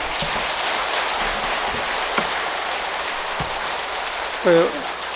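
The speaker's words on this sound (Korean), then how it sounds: "박수 한번 치세요" Applause from an assembly at a Buddhist precepts retreat session, a soft, continuous patter of many hands like light rain, with a brief voice-like sound rising near the end.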